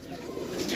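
Pigeons offered for sale at a pigeon club coo softly and steadily through the short moment, close by with no talk over them.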